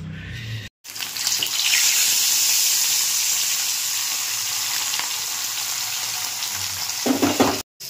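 Fish, bhola and lota, hits hot oil in a pan with a sudden loud, continuous sizzle that stays strong and even for several seconds, heard close and alone, with brief cuts at the start and end.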